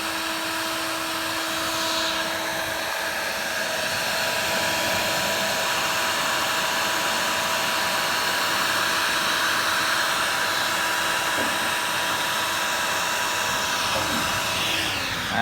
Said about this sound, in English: Soldering with a heat gun right in.